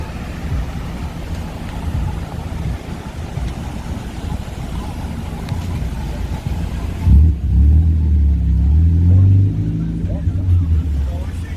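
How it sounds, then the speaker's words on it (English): A car engine rumbles and drones through wind noise in downtown Naperville, then a deeper, louder straight-piped exhaust growl takes over in the second half. "I can hear his exhaust loud and clear"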